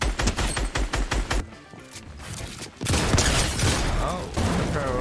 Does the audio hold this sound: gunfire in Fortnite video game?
yes